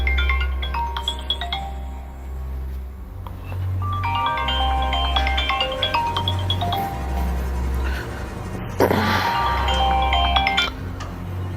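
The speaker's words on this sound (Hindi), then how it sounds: "ये किसका फोन आ गया यार?" Mobile phone ringing indoors, a chiming melodic ringtone repeating in bursts over a low steady hum, fairly loud and close, with no talking.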